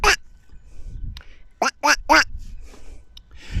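A few nasal quacks from ducks at Draycote Water Reservoir, Warwickshire, three in quick succession, sound nearby over low outdoor rumble and faint wind.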